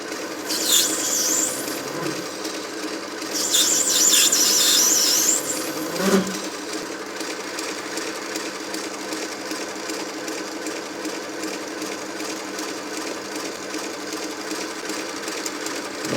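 Mini lathe turning a workpiece with a tungsten carbide cutting tool, steady machine hum running throughout with two brief bursts of high scraping cut noise early on, close and moderately loud.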